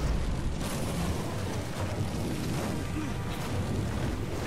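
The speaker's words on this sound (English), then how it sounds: "Ice blast." Ice blast attack in the fantasy action game Shadow of War, a dense, roaring burst of rumbling noise that holds steady throughout, like a sustained eruption or thunderous blast.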